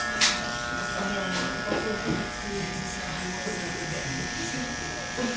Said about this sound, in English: I'm going to use the trimmer here. I'm going to drop it right in front of his ear.